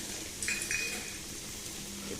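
Fried potatoes are lifted out of hot oil with a faint steady sizzle and a couple of light metallic clinks from a utensil, no talking over it.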